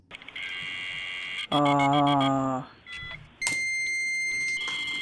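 A dial-up modem connecting: steady beeps, a buzzing harmonic burst, then high screeching carrier tones, loud and close, with a brief spoken exclamation.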